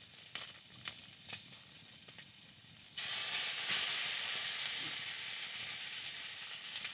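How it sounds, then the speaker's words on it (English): Sausage frying in a pan outdoors in the snowy Alaska wilderness, a faint crackle that bursts into a loud, steady hiss and sizzle, then gradually settles a little, with no talking. "Sausage is taking a while to cook, so cutting it up like this is going to help it speed up to cook."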